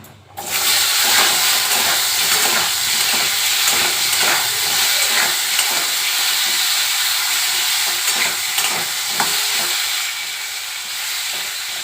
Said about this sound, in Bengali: আলুর সঙ্গে তেল নুন আর অল্প হলুদ দিয়ে আলুটা চলো আলুটা আমি আগে ভেজে নিচ্ছি